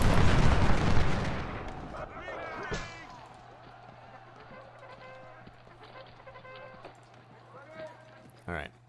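Infantry gunfire in the video game Ultimate General: Civil War: a heavy volley of musket fire bursts at the start, then scattered crackling shots and distant battlefield noise continue, with a final sharp shot near the end.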